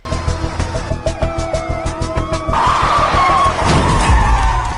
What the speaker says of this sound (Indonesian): Namun di saat pengejaran mobil, orang-orang itu menabrak seseorang yang melintas di jalan hingga tewas.